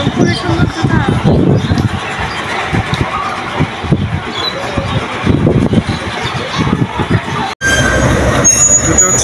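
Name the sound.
Panchagarh local train departing station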